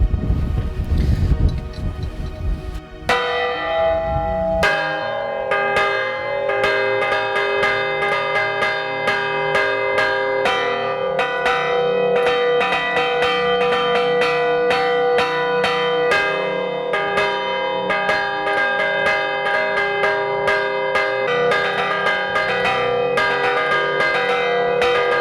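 Church bells rung by hand in the elaborate campanero style, a sustained, dense pealing of several bells with overlapping rhythmic strikes and ringing tones, alone after a brief rustle at the start.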